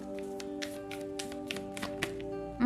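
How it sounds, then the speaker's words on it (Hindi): Tarot cards shuffled by hand, heard as a string of soft, quick riffling taps close by over a steady low background hum. "तो शफल कर लेते हैं आपके लिए कार्ड्स।"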